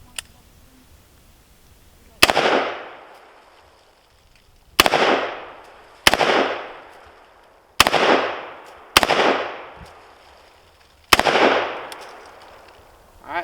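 Six sharp gunshots ring out at an outdoor range during target practice with Feyachi offset iron sights, loud and widely spaced, each with a long echoing decay and no talking.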